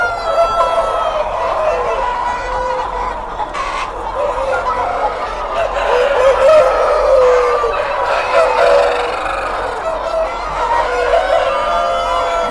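Many chickens and roosters fill a large breeder farm house with steady clucking and cackling, with crows rising now and then over the dense, continuous flock noise.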